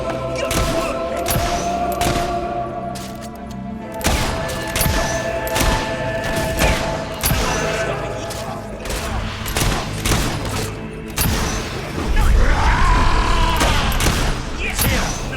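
Gunfire rattles through a video game battle in dense, continuous bursts, with thumps and booms mixed in. Music and game voices sit underneath.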